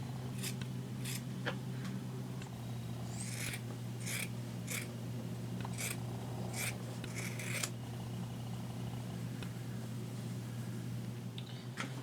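Scissors cut through fabric while a costume is made for a marionette of Joseph Merrick, giving a series of close, crisp snips in uneven bursts over a steady low hum, with no talking.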